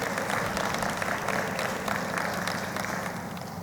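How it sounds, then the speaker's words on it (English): Audience applause as a CEO and events architect walks onstage: steady, dense clapping from a crowd that holds at an even level for the whole stretch and tapers off only slightly at the end. "Round of applause for her as she takes the stage."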